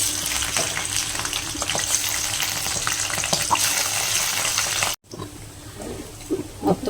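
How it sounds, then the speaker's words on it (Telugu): Fish pieces (koramenu) fry in hot oil in a pan on low heat, giving a steady close sizzle and crackle that breaks off for a moment and then resumes more softly. "సింగిల్గా వేసి సిమ్లో పెట్టి బాగా ఫ్రై చేయండి"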